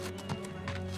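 A tired horse in a dubbed animated Bible story clops along in a few soft, evenly spaced hoofbeats, faint and brief over a low background hum.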